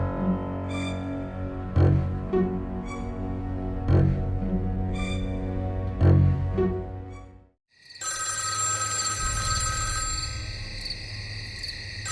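Classic telephone bell ringing in repeated bursts with short pauses, then an abrupt cut to a steady high electronic tone and hum; no voices.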